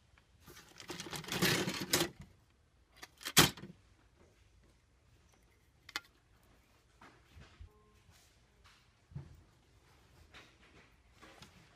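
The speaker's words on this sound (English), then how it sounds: "Color video printer." Intermittent mechanical whirring and clicking bursts from a color video printer, a loud motorized burst early then sharp clicks and quieter feed noises.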